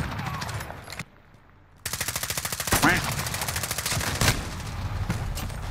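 Rapid bursts of automatic gunfire from Modern Warfare Hardpoint, a video game, rattle loudly and close, break off for under a second of near silence, then resume as dense, steady firing with a few sharper blasts.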